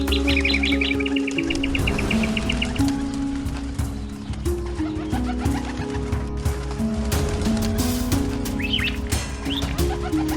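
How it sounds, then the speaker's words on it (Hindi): Birds caught in a net chirp and tweet in short scattered calls, with fluttering and a busy layered background of other sounds. "ये पंछी तो जाल में फंस गए हैं।"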